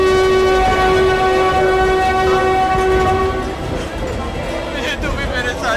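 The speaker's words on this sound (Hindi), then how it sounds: "मुंबई जाने के लिए जोधपुर मुंबई एक्सप्रेस ट्रेन चलने वाली है" Jodhpur-Mumbai Express train about to depart, a long steady horn blast sounding loud and near over station rumble, fading after a few seconds while people talk and dramatic background sound continues.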